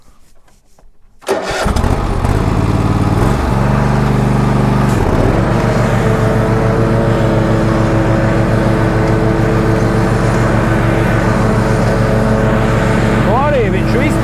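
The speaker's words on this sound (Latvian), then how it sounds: "tūlītām mēģināsim, ko šis traktoriņš var" A small tractor starts up with a sudden engine crank, then settles into a loud, steady, close chugging drone that holds on while carrying a passenger uphill. A voice speaks partway through.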